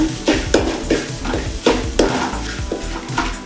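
Grated coconut sautéing in a hot pan as a spatula stirs it, rhythmic scraping strokes about every half second over a constant sizzle.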